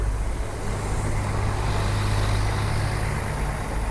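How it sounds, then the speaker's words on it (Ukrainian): A steady low engine rumble drones throughout, loud and close, like a bus idling or moving, with no voices. "Шумний автобус."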